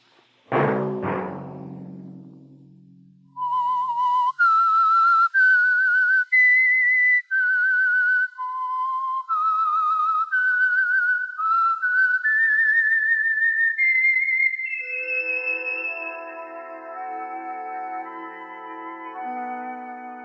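A loud, clear melodic whistle carries a wandering tune of sustained notes, preceded by a brief low thump, with no voices.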